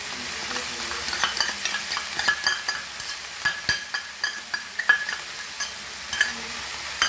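Banana flower and dal fry in a pan for a Goan kelfulachi bhaji. A low sizzle runs under a steady rhythm of scraping spoon strokes and light taps against the pan.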